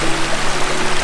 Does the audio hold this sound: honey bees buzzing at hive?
no